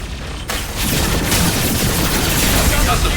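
A grenade explosion in the video game Mass Effect 2 bursts in loud and close, then a dense roar of blasts and gunfire carries on under faint voices.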